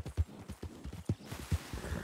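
Horse hooves gallop in the Red Dead roleplay video game, a rhythmic run of thudding clip-clop beats about every half second, close and fairly loud, with no talking.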